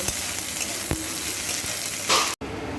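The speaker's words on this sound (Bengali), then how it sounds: "পেঁয়াজটাকে ভালো করে এই তেলের সাথে ভাজা ভাজা করে নেব" Chopped onion frying in hot oil for a Bengali borboti bhorta, giving a dense, even sizzle up close with a couple of spatula knocks and a brief louder burst near the end.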